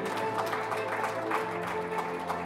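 Audience applause at a Law and Justice party convention in Gostynin, a steady dense wash of clapping held at even loudness throughout, with no voices over it.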